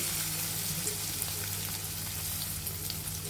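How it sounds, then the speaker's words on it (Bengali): Native prawns fry in a little white oil in a wok with a continuous, even sizzle and fine popping spatter, steady and close, with no voices. "এখন আমরা চিংড়ি মাছগুলো ভেজে নিব।"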